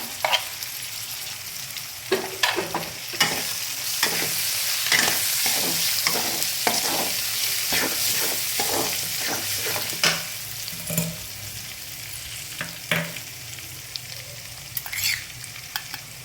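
Tomato with turmeric fries in a pan for egg fried rice while a spatula stirs it, with a constant close sizzle broken by repeated scraping strokes that come in bursts, loudest in the middle, and no voices.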